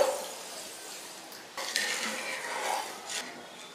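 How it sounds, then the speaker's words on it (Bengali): A cup of water is poured into a pan of sugar in a home kitchen, giving a brief close splash and gurgle followed by soft rubbing and scraping of the pan. "দিচ্ছি 1 কাপ জল।"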